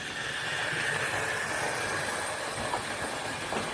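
An Airfix Great Modern Railways model train pulling a Siphon H wagon runs along its track, giving a steady close rolling whir with a faint hiss and occasional light clicks.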